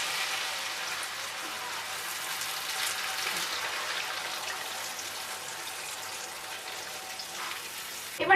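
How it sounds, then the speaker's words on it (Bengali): Water poured into a hot pan of frying koi fish for a Bengali tel koi curry sets off a soft, steady hiss and sizzle, ending in a brief louder crackle. "এবার এর মধ্যে আমরা পরিমাণ মতন জল দিয়ে দিচ্ছি।"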